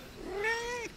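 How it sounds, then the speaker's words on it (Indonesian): A cat gives a single short rising-and-falling meow, close and clear, lasting under a second over quiet room background. "misalnya mau nunjukin si kucing ini nih"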